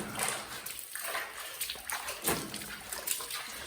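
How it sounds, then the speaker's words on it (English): Water splashing and sloshing in uneven bursts as it is poured onto freshly laid concrete to cure it at a village house build, close and fairly loud. "I'm actually pouring water."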